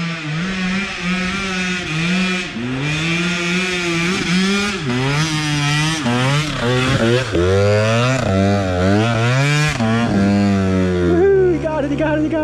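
Motorcycle revving hard during a hill run at Mt Trashmore, its engine note repeatedly climbing and dropping in pitch through the gears, loud and close throughout.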